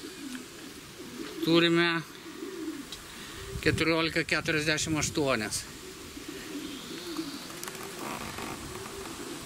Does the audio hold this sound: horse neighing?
no